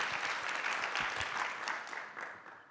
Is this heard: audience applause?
yes